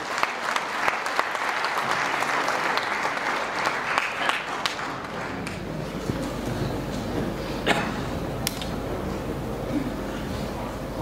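A congregation at a church gathering in Oxford, UK, applauds steadily and loudly for about eleven seconds, dense clapping that thins slightly toward the end.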